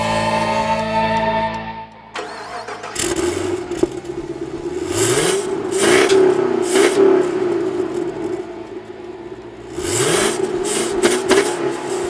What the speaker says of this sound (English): You gotta love that sound of the American V8 motor.